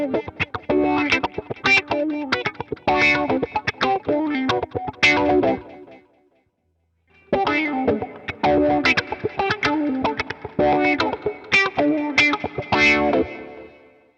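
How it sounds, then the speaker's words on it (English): Boss Katana amp playing a guitar patch with an expression pedal sweeping reverb in and out: two loud strummed phrases with distorted, chorus-laden tone and echoing tails, split by a brief silence near the middle. "when the pedal is back, we've got all the reverb. And when it's forward, the reverb turns off"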